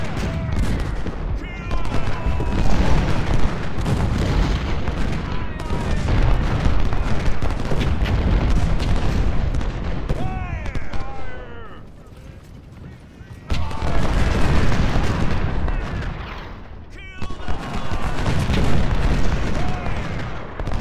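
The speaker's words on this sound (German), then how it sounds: "Die schießen jetzt alle auf die Stadt." Artillery cannons in a Civil War strategy game, Ultimate General: Civil War at the Battle of Fredericksburg, pound a town with dense, overlapping booms and rattling gunfire, loud and continuous with one brief lull.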